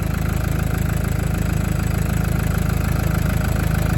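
Engine of a FIAT Ducato idling once warmed up, a loud, close, steady low rumble with an even pulsing rhythm and no voices.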